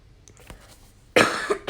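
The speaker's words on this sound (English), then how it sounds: "I just needed to cough." A person coughs once loudly and close up after a near-silent pause, followed by a shorter second cough burst right at the end.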